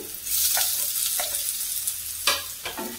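Chopped potatoes and onions fry in a pan for sago upma, a close, bright sizzle broken by a few brisk scraping stirs.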